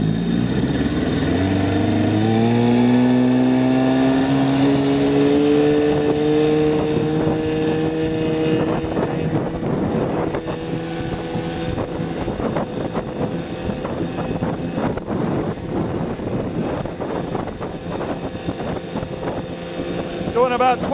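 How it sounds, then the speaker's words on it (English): A 1960 West Bend 12hp outboard motor pushing a small boat at speed, a loud, steady engine drone that rises in pitch early on and then holds under constant wind rush, with no talking. "it makes the old Durnautic 12 here really fly when you get her going"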